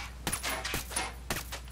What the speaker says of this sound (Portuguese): Caraca, tomando muito tiro, maluco.